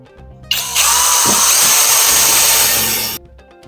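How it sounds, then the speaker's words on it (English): A power drill whirs loudly and steadily for about two and a half seconds, drilling a small hole through a wooden barn door, starting abruptly and cutting off cleanly, with quiet surroundings before and after. "we're going to drill a small hole through this side"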